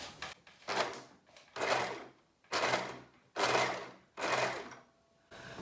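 Overlocker serger sewing machine feeding fabric down slowly with its cover closed, running in five distinct close bursts of steady whirring stitching separated by short pauses, with no talking.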